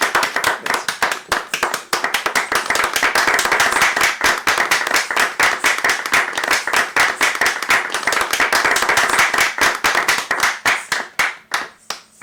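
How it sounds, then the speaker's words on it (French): Sustained applause from a live audience for a musician on a jazz radio show, dense and steady clapping filling the whole stretch, thinning into scattered individual claps at the end. "On t'applaudit."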